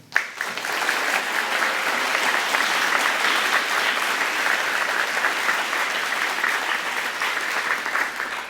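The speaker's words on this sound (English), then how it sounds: "Let's give a warm round of applause as the Music Conservatory's Executive Director, Cynthia Newkirk, comes to the stage" A room full of people claps steadily at a civic awards ceremony as an executive director walks up to the stage, the applause dense and sustained at an even level for several seconds.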